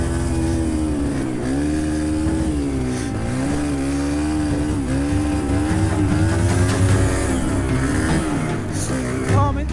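A cheap dirt bike's small engine drones steadily while riding, its pitch rising and falling with throttle, loud and close throughout with no talk.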